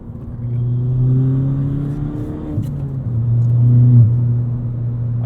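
A straight-piped 2017 Ford Fiesta ST engine pulls hard under acceleration, its loud rising drone shifting pitch through a gear change midway, heard steadily from inside the cabin with no talking.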